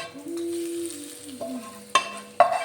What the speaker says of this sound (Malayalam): ഇതിനെ നന്നായിട്ടൊന്ന് മൂപ്പിച്ചെടുക്കാം